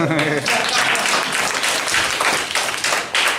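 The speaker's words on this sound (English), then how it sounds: "So big hand of applause for her," A comedy club audience applauds the comedian's wife, a dense, loud burst of clapping that fills the whole moment, with a voice briefly audible at the start.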